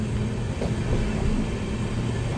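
The Sealdah–Jalpaiguri Road Humsafar Express runs on its rails near Ranaghat with a steady, loud rumble.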